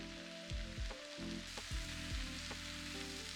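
Chopped Jamaican callaloo greens sizzle steadily in a hot pan, a continuous close frying hiss with a few soft thumps and stirring knocks as the leaves are turned.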